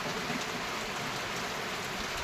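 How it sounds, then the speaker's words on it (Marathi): Steady rain falls in the monsoon, a faint, even wash of drops hissing on surfaces, heard at a distance with no voices. "आता थोडा पाऊस कमी होतोय, वाढतोय, कमी होतो, वाढतो."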